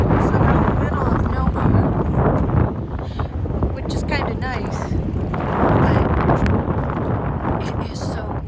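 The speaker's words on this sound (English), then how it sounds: "but it is so windy" Strong wind roars and buffets the microphone while driving at about 45 to 50 miles an hour through open farm country, loud and constant beneath a person talking.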